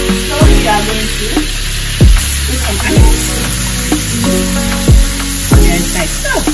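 Margarine sizzling loudly in a hot pot at the start of making fried rice, a steady bright frying hiss broken by repeated clanks of a spoon or spatula against the pot.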